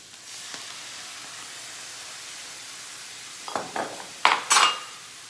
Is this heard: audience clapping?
no